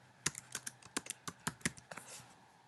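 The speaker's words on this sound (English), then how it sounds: "I'm going to type left wing." Typing on a computer keyboard, a quick run of about a dozen close, crisp key clicks in an uneven rhythm, fairly quiet, with no talking.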